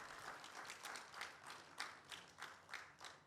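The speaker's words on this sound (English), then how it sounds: "let's give a round of applause to the panelists" Applause for the panelists at a warehouse and logistics excellence awards event, a faint, uneven patter of scattered clapping from a small audience with distinct individual claps, fairly distant.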